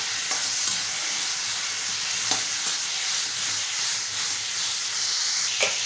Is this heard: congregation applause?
no